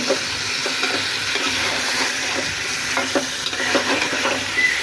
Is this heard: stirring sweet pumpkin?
yes